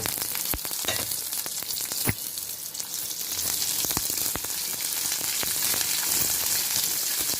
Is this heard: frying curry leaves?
yes